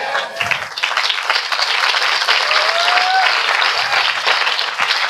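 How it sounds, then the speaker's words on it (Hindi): Church congregation applauding at a Hindi-language sermon, sustained dense clapping from a crowd filling the whole stretch, with a faint voice or tone briefly rising beneath. "वाह, ताली बजा रहे हैं लोग।"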